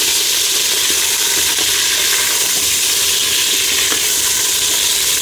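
Onions and meat fry in a pan for arvi gosht, a steady, close, dense sizzle with faint stirring scrapes running unbroken throughout, no voices.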